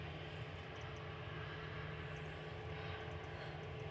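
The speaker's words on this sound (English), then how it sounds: "EasyJet's starting up." Jet engines on an EasyJet airliner spool up at Manchester Airport, a steady broad roar holding throughout, heard from a distance with no talk.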